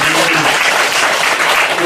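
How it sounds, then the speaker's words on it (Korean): Church congregation applauding together at a Sunday service, a dense, steady wash of clapping filling the whole stretch, loud and close. "이분들에게 우리 박수 한번 하도록 하겠습니다."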